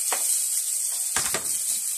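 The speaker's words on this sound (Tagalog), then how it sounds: "Magigisa natin na yung ricados." Steady, bright sizzling of aromatics sautéing in a hot pan, with a couple of brief louder crackles and stirring sounds, no voices.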